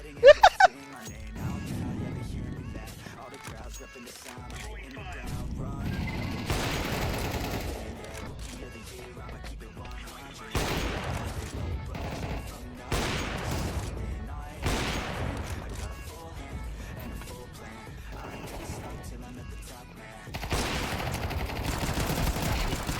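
Gunfire from the video game CS:GO 2, with repeated sharp bursts and rapid volleys of shots running through the whole stretch over a steady game backdrop.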